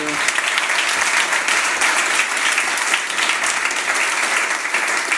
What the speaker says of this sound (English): give her a big applause and a big welcome